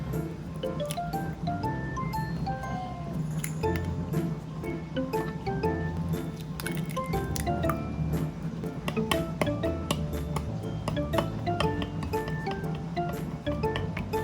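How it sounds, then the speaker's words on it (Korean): Beaten eggs seasoned with a pinch of salt being stirred in a bowl, a steady run of small clicking and tapping utensil strokes close by, with light ringing taps, no talk. "계란에도 간이 있어야 더 맛있으니 소금을 살짝 넣어서 저어주세요"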